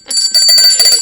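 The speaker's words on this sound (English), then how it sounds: "ring the bell" A bright bell rings loudly and close in a quick series of metallic strikes with sustained high ringing tones, alone without any voices.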